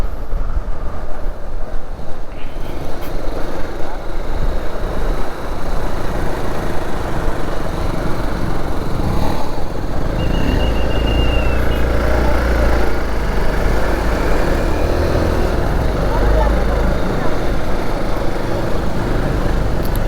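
A motorcycle engine drones steadily and loudly on the ride to a temple near Kudremukh, a continuous rumble with road noise and no voices.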